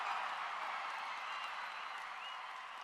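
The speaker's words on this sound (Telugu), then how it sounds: "మా మల్లికార్జునరావు గారు లేచి చప్పట్లు బాగానే కొట్టాడు" Faint, distant applause from the audience at Andhra University's centenary celebration after an announced 500-crore grant, a steady soft patter of many hands without speech.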